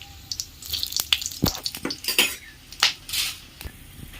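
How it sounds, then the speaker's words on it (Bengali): Whole spices, panch phoron, cardamom, cloves and cinnamon, hit hot oil in a Bengali kitchen while a metal spoon clatters against the pan in quick irregular knocks over a light sizzle. "তেলে দিয়ে দেবো 5 ফোড়ন, 2টো এলাচ, 2টো লবঙ্গ,"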